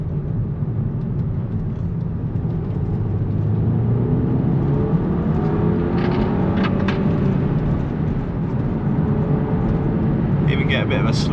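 A car engine with a misfire hums and pulls steadily while driving in second gear, a continuous close drone with a voice talking over it.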